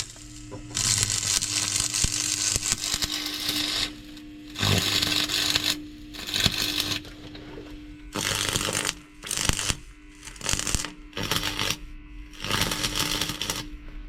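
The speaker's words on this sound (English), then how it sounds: "So my dad's managed to weld this side in, and then I've managed to weld a piece of rebar in" Welding repair on a classic VW Beetle body shell, with bursts of crackling, sputtering welding noise a few seconds long separated by short pauses, fairly close.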